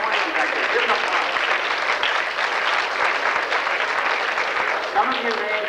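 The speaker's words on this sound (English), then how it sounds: "Give them applause." Audience applause at a gathering about West Seattle's Admiral Theater, a steady, fairly close wash of clapping hands that runs throughout with a few voices mixed in.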